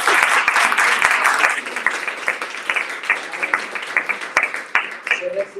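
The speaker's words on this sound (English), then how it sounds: "Let's give a big applause to Paula Calderon." Audience applause for speaker Paula Calderon at a women's empowerment event, a dense, sustained burst of many hands clapping nearby that thins into scattered claps toward the end.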